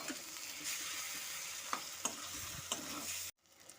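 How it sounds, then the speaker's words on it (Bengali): Elephant foot yam coated in mustard and poppy seed paste is stirred in a hot pan, a steady scraping sizzle with a few sharp spoon clicks, close and alone before it cuts off abruptly. "পোস্ত সাথে ওলকচুটাকে আমি এখন ভালো মতো করে নেড়ে নেব।"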